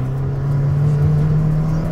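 An Abarth 595 with Stage 3 tuning, driven as a cabrio, holds a loud steady engine drone with a constant deep tone, revving close and alone.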